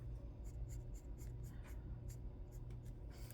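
Sharpie S-Note duo nib markers writing on paper, a series of soft, quick strokes and scratches repeating in an irregular rhythm, close up, over a steady low background hum, with no talking.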